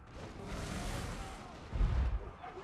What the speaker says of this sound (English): So, ooh, enemy artillery.